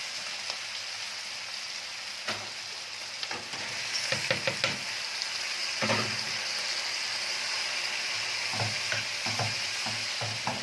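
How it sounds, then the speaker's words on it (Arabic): Tomato pieces hit a pan of softened onion and pepper and fry with a steady, dense sizzle, punctuated by scattered clicks and scrapes of stirring that grow busier partway through. "هنزل عليه بقطع الطماطم."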